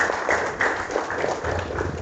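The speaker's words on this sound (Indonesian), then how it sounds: "Tepuk tangan buat beliau." Crowd applause at a village head swearing-in ceremony in Bogor, a dense continuous patter of many hands clapping in a hall, steady and fairly loud.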